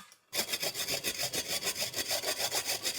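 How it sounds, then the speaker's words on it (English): Galangal is grated by hand on a grater, with quick, rhythmic rasping strokes that start abruptly after a brief silence and repeat evenly, close and clear. "So we start with grated the galangal."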